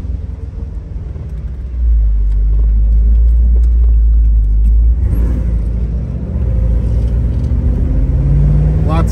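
A 1957 Cadillac Series 62 convertible restomod with an LS2 engine rumbles steadily, swelling louder as it pulls away and accelerates, heard from inside or close by as a deep continuous drone.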